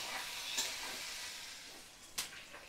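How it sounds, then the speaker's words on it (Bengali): Spices fry with a steady soft sizzle in a pan over a low gas flame, as a spoon stirs through them and gives two brief scraping clicks; quiet and close, with no talking. "সমস্ত মশলা ভালো করে আমি মিশিয়ে নিচ্ছি। এবার একদম লো ফ্লেমে আমি গ্যাসের আঁচটা দিয়ে দিলাম।"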